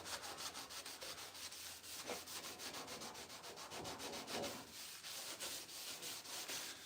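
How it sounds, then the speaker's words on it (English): A rag rubs gently over 56-year-old car paint in steady back-and-forth strokes, a soft, regular swishing rasp that stays faint and close. "I'll sort of gently wipe off areas"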